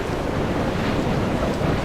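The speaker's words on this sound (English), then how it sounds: "It's getting windy up here." Wind in the video game Dear Esther blows hard and steadily at night, like a strong gale with surf-like roaring, loud and continuous with no speech.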